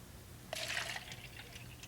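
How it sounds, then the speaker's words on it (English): Water poured from a small 300 ml container into a larger one gives a brief, faint splash lasting about half a second, then settles into quiet trickling with no talking. "Now pour the small one into the big one."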